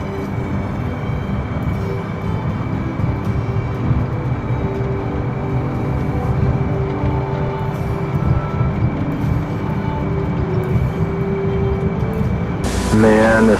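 Jet engine in a flight game produces a steady, close droning hum with a faint high tone. People talk over it throughout, and a brief louder burst comes at the very end.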